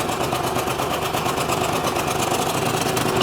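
A walk-behind power reaper's small engine runs steadily close by, a constant droning hum with no pauses or speech.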